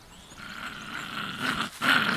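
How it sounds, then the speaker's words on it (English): A short-eared dog growls in a survival video game, a low, rising snarl that swells louder near the end, close and alone with no talk. "Short-eared dog."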